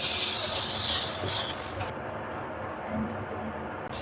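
Ginger-garlic paste hits onions already fried until reddish, setting off a loud, bright hiss of sizzling that eases after a couple of seconds into a softer, steady simmer.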